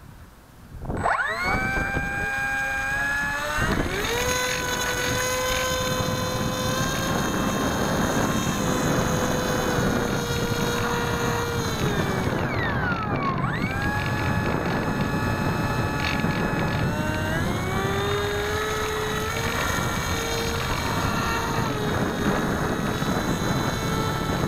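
A Bixler 2 RC model airplane flies on its first outing, its electric motor whining steadily and loud from launch to the end, the pitch rising and dipping with throttle changes while wind buffets the microphone.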